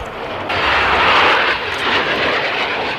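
Navy and Marine Corps jet aircraft roar past at the 38th Annual Navy Relief Benefit Air Show, a loud sustained engine rush that swells near the half-second mark and holds steady without talk.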